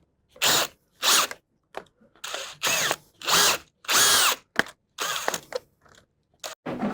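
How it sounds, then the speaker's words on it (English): A power drill whirring in repeated short bursts of about a second each, close up, with brief silent gaps as it grinds through the rubber of a front lower arm bush on a Land Rover. "I've went round it a couple more times with the drill"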